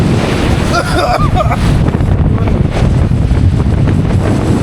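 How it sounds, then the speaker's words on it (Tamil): Storm-surge seawater floods a road leading to Nainativu during a strengthening cyclone, making a loud, continuous rushing wash of water and wind buffeting close to the microphone, with a voice briefly audible early on. "தண்ணி அதிகமாக வந்து கொண்டிருக்கு"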